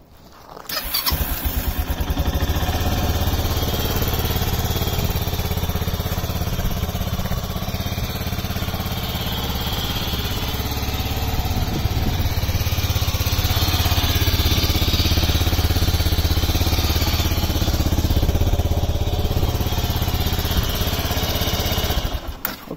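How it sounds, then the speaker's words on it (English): A cold black 2008 Kawasaki 250TR single-cylinder motorcycle starts with a quick crank, then settles into a steady, close, even idle that runs unbroken for about twenty seconds before cutting off. "Just keep my hand on it here for 2 or 3 seconds, show it's cold, and then we'll start it up."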